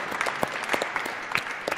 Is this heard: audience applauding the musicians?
yes